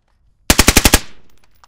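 Rapid burst of six suppressed 5.56 rifle shots fired through a low back pressure suppressor, loud, close and evenly spaced, followed by a short fading tail.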